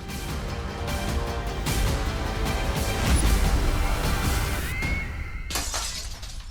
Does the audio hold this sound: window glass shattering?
yes